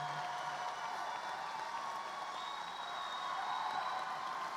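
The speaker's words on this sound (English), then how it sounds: "We will continue that applause." Sustained crowd applause at a high school graduation fills the space throughout, a dense wash of clapping from a large audience heard at a distance.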